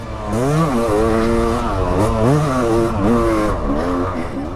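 A Yamaha YZ500 dirt bike, running slightly lean, tears around a hot lap: a loud, close engine revs up and drops back again and again through gear changes and corners, with no talk.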